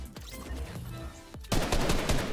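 Shotgun blasts from Fortnite ring out as sharp, close, booming reports, a couple of spaced shots followed by a denser burst of rapid fire in the final second.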